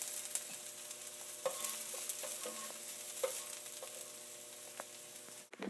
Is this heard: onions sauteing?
yes